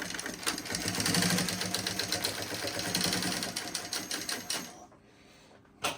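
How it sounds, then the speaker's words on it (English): A Seiko LSC-8 cylinder-arm walking-foot, needle-feed industrial sewing machine runs at speed with a dense, rapid mechanical clatter of moving needles. It slows near the end and stops, leaving quiet broken by a final clunk. "When I press pedal back, needles go backwards, needles go up."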